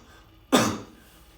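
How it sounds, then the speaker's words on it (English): One loud, abrupt cough bursts out close by, then quickly fades into quiet. "I'm going to give 2 big coughs"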